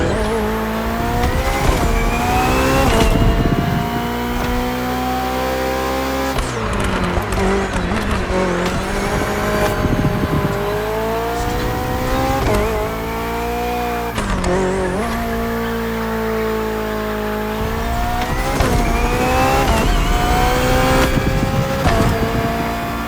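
A BMW hybrid V8 race car in the Motorfest racing game roars continuously at high revs, pitch climbing and dropping through repeated gear shifts, with tire squeal and brief lifts off the throttle between sweeping accelerations.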